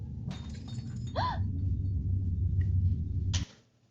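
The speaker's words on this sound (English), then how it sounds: "That is the most fake shattering sound effect I've ever heard." Fake glass-shattering effect in a horror clip: a sharp crash bursts out near the start, followed by a brief rising tone and a second crash, all over a steady low rumble that cuts off abruptly near the end.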